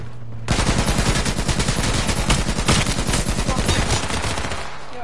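Rapid automatic gunfire from the PS4 battle royale game H1Z1, a dense, loud, continuous burst of shots beginning abruptly and running nearly unbroken for several seconds.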